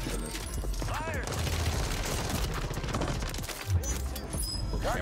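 Sustained gunfire in the shooter Warzone on Rebirth Island, dense rapid shots running throughout under voices talking, with a louder burst near the end.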